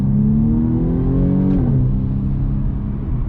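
A 2020 BMW M235i Gran Coupe's turbocharged engine pulls hard under acceleration, a loud steady droning rev that rises in pitch, dips briefly at a gear change and climbs again, heard from the cabin.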